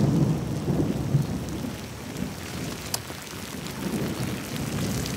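Rain falling steadily on a surface with low rolling thunder rumbling underneath, a continuous dense wash of sound at moderate loudness with no voices.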